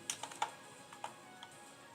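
Quiet keystrokes on a computer keyboard, a few scattered taps and clicks in a short irregular burst, close and soft, with no voices.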